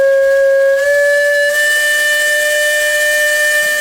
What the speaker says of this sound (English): Attached to the Case engine is a whistle that was once used on the old swing bridge.